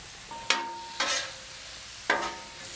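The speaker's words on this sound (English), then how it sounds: "throw our bacon in here, and we're gonna mix it all together now" Fajita meat and bacon being mixed together in a pan, with three sharp scraping strokes of a utensil over a low, steady background and no talking.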